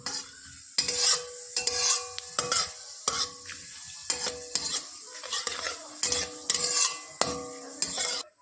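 Whole cumin seeds and onions sizzle in oil for ghugni while a spoon stirs and scrapes the pan, a soft frying hiss broken by repeated metallic scraping strokes.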